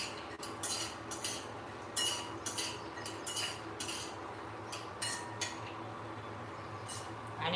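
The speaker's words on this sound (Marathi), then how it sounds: "मी सुरुवातीला शेंगदाणे घालणार आहे छान अशी थोडीशी तळून घ्यायची" Peanuts stirred while lightly frying in a little oil for curry leaf chutney, a run of repeated metallic clinks and scrapes of a spoon against the pan, fairly quiet, with no voices.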